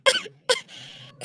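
A person coughs in sharp, harsh bursts, two quick coughs followed by a raspy breathy stretch and the start of another cough, close and clear.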